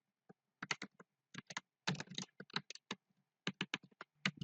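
Code is typed on a computer keyboard in quick bursts of crisp, close key clicks separated by brief pauses.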